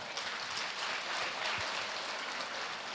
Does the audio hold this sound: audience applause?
yes